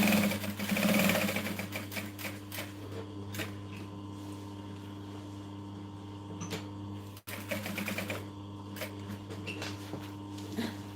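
A sewing machine runs at a late-night session sewing a Linette business bag, a steady close mechanical whir with a rapid stitching rhythm, briefly cut off around the middle before resuming.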